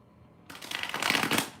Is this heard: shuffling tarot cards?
yes